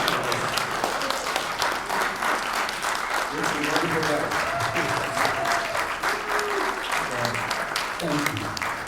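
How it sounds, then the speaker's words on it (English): An audience at a bluegrass leadership masterclass interview gives sustained, dense applause that fills the whole stretch, with voices talking over it. "So just give him a round of applause."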